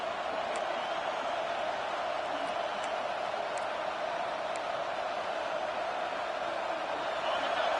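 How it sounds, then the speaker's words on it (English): A football stadium crowd roars steadily during a stop near the goal line, a dense, continuous wash of cheering and noise at a distance with faint whistle-like peaks. "the crowd really making some noise now, trying to help out this defense to get this stop near the goal line"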